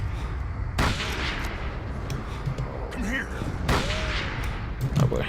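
Gunfire from a weapon in the video game Call of Cthulhu: Dark Corners of the Earth, a few sharp loud shots amid eerie in-game ambience while someone talks over it.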